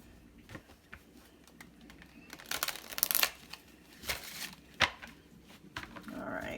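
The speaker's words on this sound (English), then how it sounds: "One more shuffle." A deck of tarot-style reading cards is shuffled close up, with quiet papery riffles and crinkles building to a couple of louder bursts of card flutter, then settling.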